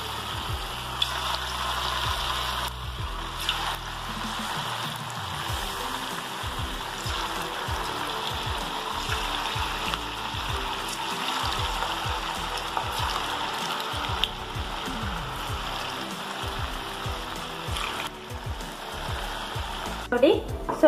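Sweet pumpkin and jaggery gargi dough pieces fry in hot oil on a medium flame, a steady close bubbling sizzle lasting throughout with faint clicks and pops, no speech.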